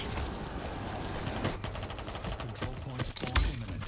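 Submachine gun fire in the zombie shooter World War Z, with rapid bursts of gunshots over dense game noise and a heavy impact near the end.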